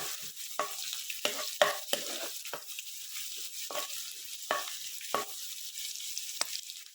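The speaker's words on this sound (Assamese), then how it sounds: "এইদৰে ভাজি" Chopped vegetables with plenty of ginger and garlic frying in a pan, a constant hiss broken by repeated sharp scrapes and clacks of stirring, close and alone without voices.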